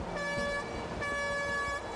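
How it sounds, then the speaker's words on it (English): Two air horn blasts on a film set with a large water tank sound in quick succession, each a bright, harmonically rich tone lasting under a second, fairly loud over a low background rumble. "the only way we could communicate with Suraj was with an air horn"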